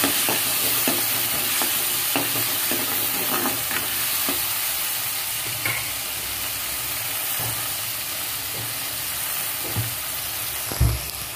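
Chopped onion and tomato fry in hot oil in a pan for mung dal, a continuous steady sizzle with occasional stirring scrapes and clinks, close and alone without talk.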